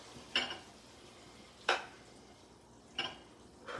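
A spatula scrapes and stirs a stir fry in a new wok, three separate scraping strokes spaced about a second and a half apart, close and fairly quiet, each followed by silence.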